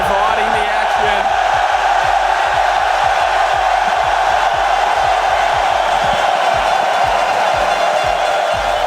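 A large, one-sided esports arena crowd in Düsseldorf roars through a Rocket League world championship match, a dense, loud, unbroken wall of cheering and shouting with a steady rhythmic thump beneath it.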